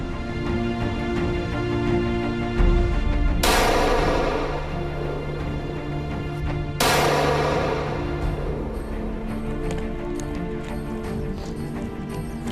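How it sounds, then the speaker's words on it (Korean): Two sharp, loud hunting rifle gunshots ring out a few seconds apart during a wolf hunt in Mongolia, each followed by a long echoing decay, over steady background noise. "총소리와 함께 사냥이 끝났습니다."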